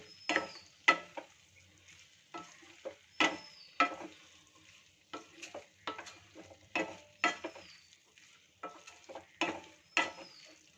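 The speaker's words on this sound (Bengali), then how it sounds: "এবার ভালো করে সব মশলাগুলোর সাথে ডালটাকে কিন্তু কষিয়ে নেব।" Moong dal is stirred and fried with spices in a pan, a series of sharp scraping strokes and clatters in an irregular rhythm over a faint sizzle, close up with no voices.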